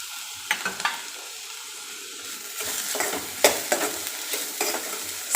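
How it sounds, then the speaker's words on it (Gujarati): Carrots, onion and capsicum sauté in a hot pan, a soft continuous sizzle broken by repeated scraping stirs of a spatula, close and fairly quiet with no talking. "શાકભાજીને આપણે ઓવરકુક નથી કરવાના, ખાલી સંતળાય એ રીતે જ એકદમ સોફ્ટ થાય ત્યાં સુધી જ એને પકાવવાના છે."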